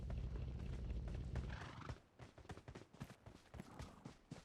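A horse in the video game PUBG Mobile: a low rumbling run gives way to a string of quick, crisp hoof clip-clops at moderate distance, irregular and fairly faint.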